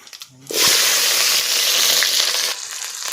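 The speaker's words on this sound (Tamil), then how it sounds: "வெங்காயமும் பச்சை மிளகாவும் போட்டேன்" Onion and green chilli hit hot oil on a wood-fired stove with an abrupt, loud burst of sizzling that holds steady for about two seconds before easing to a softer crackle, after faint clatter at the start.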